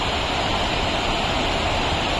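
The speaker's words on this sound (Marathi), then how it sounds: "वा किती पाणी भरले नदीमध्ये" A flooded river rushes past a bridge after heavy monsoon rain, a loud steady roar of water, close and unbroken, with no voices.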